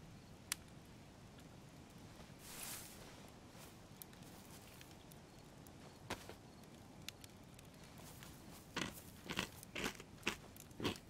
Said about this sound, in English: That's one crunchy steak.